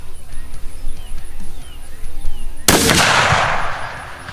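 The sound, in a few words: rifle shot fired free recoil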